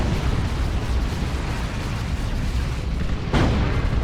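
Rocket run strike in the strategy game Dawn of War 2, Space Marines against Imperial Guard: a dense, continuous rumble of overlapping explosions, loud and close, with a fresh blast bursting in near the end.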